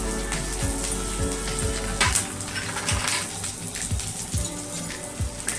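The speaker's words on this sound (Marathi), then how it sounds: "एक चमचा तेल टाकूया आणि हा लसूण आपण तेलात परतून घेऊया" Garlic frying in a spoonful of oil for curry leaf chutney, a soft continuous sizzle broken by periodic low taps of a spoon against the pan.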